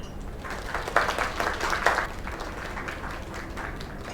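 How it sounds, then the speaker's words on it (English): A small group applauds at a bar celebration in the video game Lake, steady clapping at moderate volume that briefly swells near the middle, with no talking. "Another round of applause."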